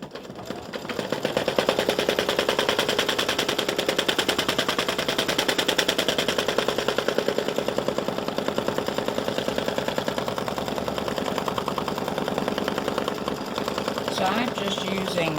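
Embroidery machine stitching a design onto store-bought cardstock, a fast steady needle chatter that runs loud and continuous throughout, with no talking.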